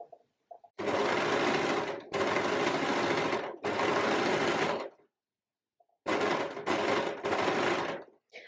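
Overlocker stitching along the neckline of an Ahsoka-inspired outfit, running in loud sustained bursts: three long runs, a pause, then three shorter runs close together, with no talking.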